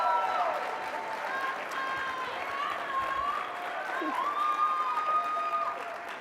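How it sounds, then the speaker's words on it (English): Audience applause at a College Hall of Fame induction for a female coach, steady clapping filling the room throughout, with voices talking and calling out over it. "I want to first hear a warm applause"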